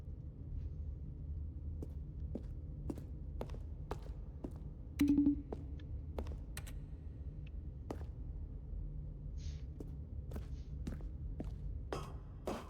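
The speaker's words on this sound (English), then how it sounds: "if I press E, it also makes keyboard sounds" Sharp, sparse key clicks from The Stanley Parable, scattered individually and in small clusters over a low steady background hum, with no talking.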